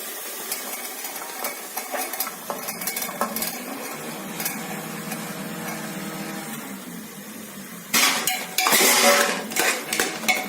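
Vegetables stirred in oil in a pot for veg biryani, with metal spoon scrapes and clinks against the pot repeating irregularly over a faint sizzle, growing louder and busier near the end, with no talking.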